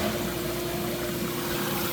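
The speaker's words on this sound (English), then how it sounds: "water pump's running, dump valve's not leaking by." A Hoshizaki ice machine's water pump runs with a steady, continuous mid-level hum and whir, close by and without interruption.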